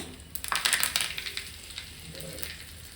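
Cumin seeds and curry leaves dropped into hot oil give a quiet burst of crackling sizzle that peaks briefly, then settles into a soft, faint hiss.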